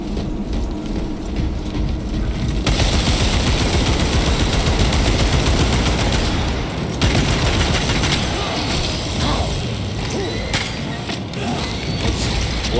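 Rapid gunfire in the video game Warhammer 40K: Space Marine 2, dense bursts of automatic shots crackling continuously and loudly, with brief shifts in intensity throughout.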